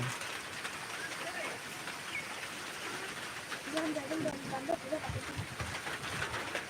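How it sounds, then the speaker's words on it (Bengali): Rain falling in gusty wind, a dense, continuous hiss and wash of noise with some lower rumbling and a faint voice in places. "আবারও বৃষ্টিপাত কিন্তু বাতাস ছুটে হচ্ছে"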